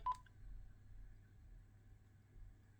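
A Quansheng UV-K5 handheld radio gives a single short beep when its menu button is pressed to confirm a setting, followed by faint low hum in a quiet room.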